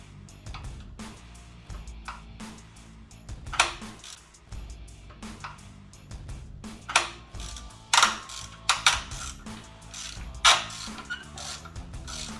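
A ratchet works loose a stock exhaust bolt on a Ducati Panigale V4, giving quiet, close, irregular bursts of mechanical clicking with a few sharper clacks and no talk.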